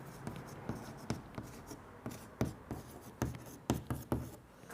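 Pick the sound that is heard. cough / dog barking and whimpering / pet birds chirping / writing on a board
writing on a board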